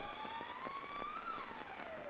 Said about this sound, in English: Far in the distance, they can hear the siren of the state penitentiary from which they've just escaped